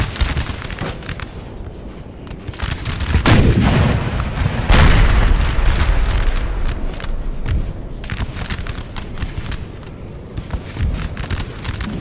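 Musket firing-line volleys mixed with artillery booms in a Napoleonic Total War battle, dense crackling bursts that swell into heavy rumbling blasts midway, then thin to scattered distant pops, with no voices.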